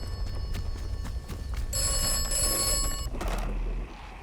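A telephone rings in the video game Atomfall, a bright bell-like ring that stands out for about a second and a half over a busy game soundscape with hoof-like clatter.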